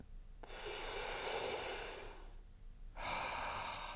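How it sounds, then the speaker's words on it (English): A slow, deep breath drawn in and let out as a guided breathing exercise, a long airy rush that swells, pauses briefly, then resumes, close and alone with no talk. "Just a nice long breath."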